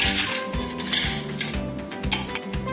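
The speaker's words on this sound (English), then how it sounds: "you will take a glass and then add ice cubes to it" Ice cubes drop into a glass while Dalgona coffee is being made, giving a quick string of bright clinks and rattles, close and clear, with several hard knocks spaced through it and no voices.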